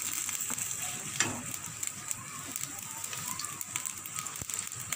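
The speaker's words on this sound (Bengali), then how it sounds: "আমি এখানে পেঁয়াজ কুচিটা দিয়ে দিলাম। পেঁয়াজ কুচি দিয়ে দিচ্ছি" Chopped onion fries in a pan with a steady close sizzle and crackle and a few faint stirring knocks, with no voice over it.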